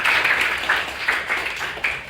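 A classroom of students claps together in a math lesson, a light, steady patter of many hands that stays fairly soft and even throughout.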